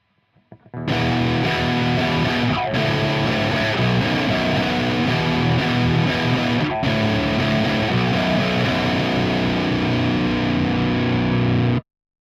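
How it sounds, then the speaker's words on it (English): Heavily distorted electric guitar chords through an Amplitube amp-emulation distortion channel ring out loud and sustained, with a couple of brief breaks, then stop abruptly into silence. "this is how my guitar sounds through Amplitube, a VST that emulates amps and consequently amps distortion channels"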